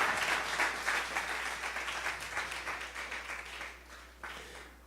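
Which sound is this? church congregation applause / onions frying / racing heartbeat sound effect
church congregation applause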